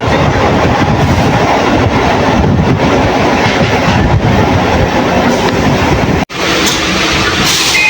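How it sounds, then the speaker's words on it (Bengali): A passenger train runs along the rails, heard from inside as a loud, continuous rumble with a rattling clickety-clack that cuts off briefly near the end. "আমরা হচ্ছে এখন ট্রেনে উঠে পড়ছি"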